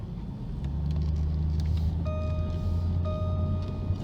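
A car is driven slowly around a dealer auction lot, with a steady close engine hum and road rumble and a few faint tonal beeps, and no talking.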